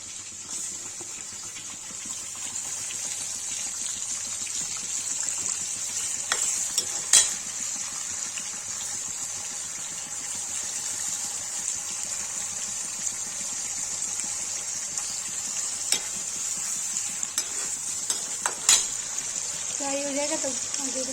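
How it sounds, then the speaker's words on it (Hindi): Paneer fries in a pan with a steady, even sizzle, broken by occasional sharp clinks of a stirring utensil, continuing throughout while aloo is cooked for a Kashmiri dish. "पनीर फ्राई करने जा रही हूँ।"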